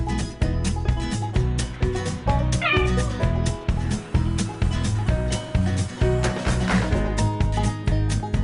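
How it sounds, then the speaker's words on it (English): A cat meows repeatedly in a home where it is facing off with a dog, sharp insistent calls rising above a busy background of clattering and other household noise. "Where's the kitty cat?"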